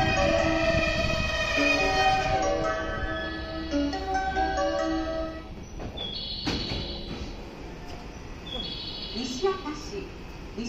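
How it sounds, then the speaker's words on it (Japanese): A rapid train bound for Kyoto pulls into Nishi-Akashi station, its rumble and screeching brakes loud and close on the platform, with someone talking over it and clanks as it slows. "こちらには京都方面安井駅の快速電車がやってまいりました"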